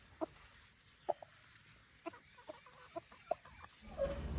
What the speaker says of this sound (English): The chickens are here helping catch all the ones that we drop.